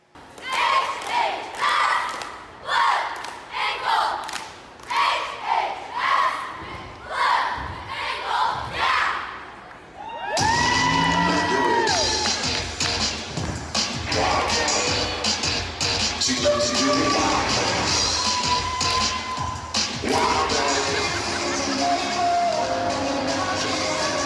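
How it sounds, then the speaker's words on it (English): A high school cheer team shouts rhythmic chants in loud bursts, then the sound shifts to a busier, continuous mix of crowd noise, music-like tones and thumps from the cheer squad's routine. "This week we feature the Heritage High School cheer team."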